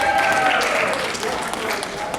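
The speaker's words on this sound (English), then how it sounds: "Round of applause" Applause breaks out at a Yoruba community Ibeji Day gathering in Australia after a quiz answer, a dense patter of many hands lasting a couple of seconds with voices mixed in.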